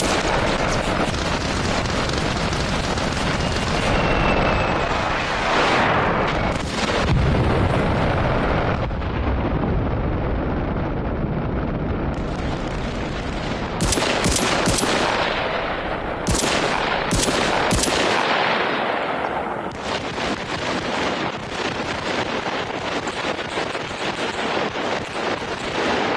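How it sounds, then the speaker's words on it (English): Crisp, loud gunfire and explosions from the war shooter Spearhead, dense overlapping volleys and blasts filling the whole stretch with brief lulls, near and heavy. "I love how crisp and like loud the guns sound in this game too."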